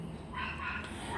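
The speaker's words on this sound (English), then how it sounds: "you can still hear my dogs" Several dogs bark and yip in the background, steady and moderately loud, with no clear voice over them.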